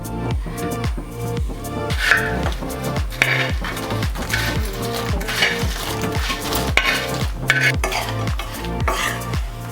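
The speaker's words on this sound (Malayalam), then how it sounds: "ഇനി നമ്മൾ വറുത്ത് വെച്ച മാങ്ങ ഇതിലേക്ക് ഇട്ട് കൊടുക്കാം." Fried mango pieces stirred in hot oil in a pan while making mango pickle, with a steady run of rhythmic scraping and clinking of a spoon against metal, loud and close throughout, no talking.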